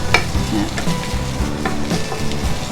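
Green chilies, garlic and shallots stir-fry in a pan, sizzling close up under repeated scraping strokes of a spatula in an uneven rhythm, with no talking.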